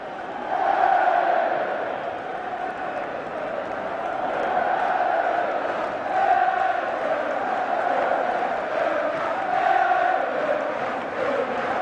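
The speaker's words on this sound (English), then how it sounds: "the biggest cheer of the lot reserved for the man who scored the goal in the 120th minute" A stadium crowd at the 1993 FA Cup Final replay between Arsenal and Sheffield Wednesday roars and cheers, a continuous distant wash of voices that swells and eases in waves.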